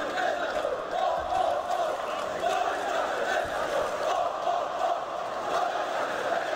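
Crowd in an esports arena at a CS:GO match between North and Virtus.Pro at PGL Krakow 2017 roars and cheers in a dense, continuous wash of noise, with faint commentary mixed in.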